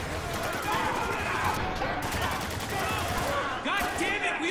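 Automatic gunfire from the shooter game Spec Ops: The Line rattles loud and continuous under shouted voices, forming a dense, constant battle din with no clear breaks.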